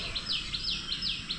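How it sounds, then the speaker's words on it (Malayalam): Morning birdsong rings out from trees beside a river resort near Trivandrum, a repeated series of clear, bright downward-sweeping whistles, close and distinct over a soft background hiss. "ഇഷ്ടംപോലെ കിളികളുടെ സൗണ്ട്."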